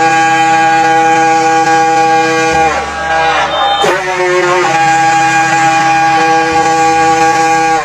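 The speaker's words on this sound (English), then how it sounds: "This deep foghorn-like siren once echoed from lighthouses and warning stations." Deep foghorn-like warning siren of the kind once sounded from lighthouses and warning stations, a loud sustained harmonic drone that holds steady, wavers briefly partway through, then continues unbroken.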